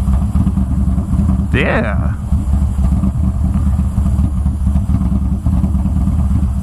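A motorcycle engine revs and drones close by during bike stunts, a loud steady rumble with a sharp rising rev burst partway through, while people shout and talk over it.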